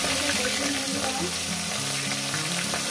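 Fish pieces fry in hot oil for a fish curry, giving a loud, dense, continuous sizzle that stays even throughout, with faint stirring and no talk.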